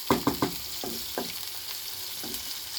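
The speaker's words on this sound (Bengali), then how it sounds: "লোটে মাছ ভুনা করার জন্য তেল দিয়ে দিলাম পেঁয়াজ তেল দিয়ে ভালো করে ভাজতে হবে" Onions frying in oil for a fish dish, a soft continuous sizzle, broken by a few sharp clinks of a utensil stirring the pan early on.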